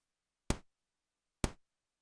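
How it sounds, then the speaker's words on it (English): Two short, crisp snare hits from a Casiotone MT-35 toy keyboard, evenly spaced about a second apart, each a bright clicky burst that dies away quickly into silence. "And I wanted to have different snare sounds throughout the whole thing."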